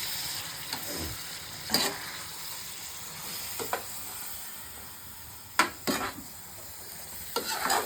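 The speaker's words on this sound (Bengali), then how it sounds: "এখন আমি মাংসটাকে কষাচ্ছি" Meat with salt is stir-fried in a pan, a low background sizzle broken by several sharp scraping stirs and clanks of the spoon against the pan at irregular intervals.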